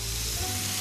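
Steak and scallops sear in a hot pan, giving a loud, steady sizzle that stays close and continuous with no voices over it.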